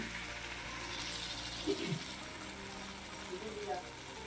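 Water poured into hot sizzling oil in a pan while cooking boiled hilsa fish, a soft steady hiss and gush with a faint voice in the background.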